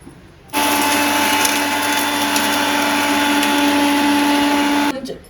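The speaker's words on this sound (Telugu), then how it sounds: "మిక్సీ పట్టుకుంటున్నాం" Mixer grinder blending masala for paneer ghee pulao, a loud steady whirring drone with a high motor whine that starts abruptly, runs without a break for several seconds, then cuts off.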